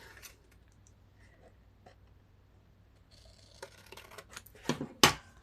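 Scissors snip through folded craft paper, a few quiet cuts building to sharper, louder snips near the end, close by with no talking.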